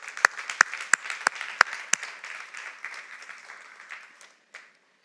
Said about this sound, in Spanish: Den el aplauso al Señor